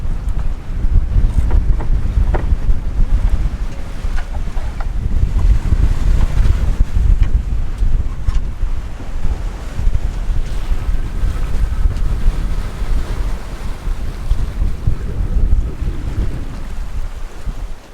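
Large ocean waves surge and crash around a sailboat at sea while strong wind buffets the microphone, producing a loud, continuous rushing roar with rolling swells.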